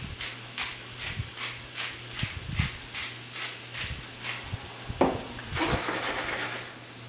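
Black peppercorns crunched in a hand grinder with a steady, repeated ratcheting click, about a dozen even turns, close and fairly quiet, ending in a louder rustle.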